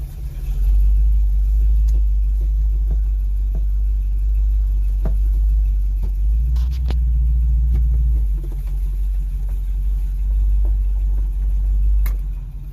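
A Mopar car engine fitted with mufflers runs steadily, producing a deep, loud low rumble like an idle, with occasional faint clicks and no talking.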